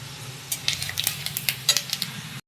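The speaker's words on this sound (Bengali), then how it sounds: "আর তেলটা দিয়ে এবারে ফোড়ন দিয়ে দেবো। দিয়ে দিলাম 5 ফোড়ন।" Panch phoron (five-spice) seeds tempering in hot oil crackle with sharp, scattered pops and ticks over a soft steady hiss and low hum, close and fairly quiet.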